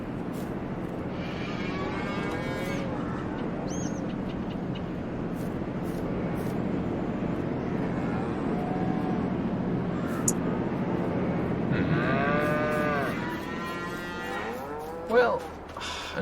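Cattle moo in Farming Simulator 22, several long, wavering calls rising and falling over a low background hum, some nearer and louder, others fainter, spread across the scene.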